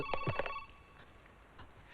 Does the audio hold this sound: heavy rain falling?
no